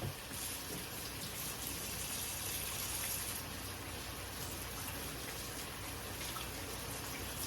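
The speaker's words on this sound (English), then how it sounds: "Let me wash my hands." Water runs steadily from a tap while hands are washed, a constant close splashing rush with little change from start to finish and no talking.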